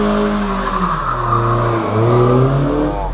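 A car skidding at a skid spot at night, engine revving loud and near as tires squeal through a slide, tone dipping and rising again over about three seconds.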